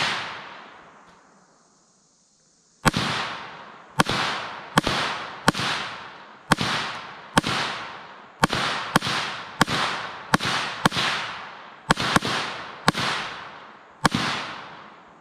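A Kriss Vector or PS90 fires a series of loud, sharp single and paired shots at irregular intervals, each crack followed by a short ringing decay outdoors, after a fading opening report and a brief pause.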